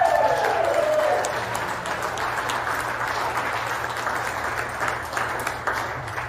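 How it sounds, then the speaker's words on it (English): A church congregation applauds steadily and fairly loudly, a dense wash of clapping that holds for the whole stretch after a brief voice at the start. "a round of applause."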